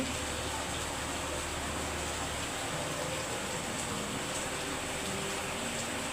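Steady, even rain falls during a morning storm in Bangladesh, a continuous broadband hiss with no breaks, fairly soft and filling the background with no voices.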